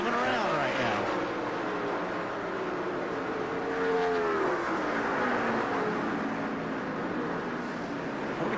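A NASCAR Busch Series stock car roars around the Atlanta track, its engine note rising and falling as it passes, loud and continuous with a faint crowd wash underneath.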